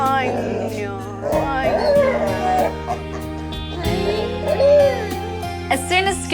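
Scooby the dog howls and whimpers in drawn-out, wavering cries at a vet clinic, close by and fairly loud, with people talking over and around the sound.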